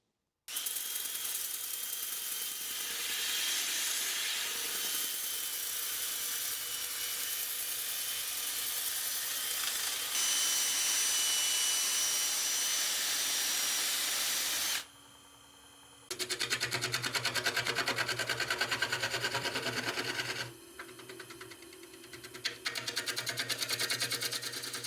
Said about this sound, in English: For now, it's going to be a lot of sanding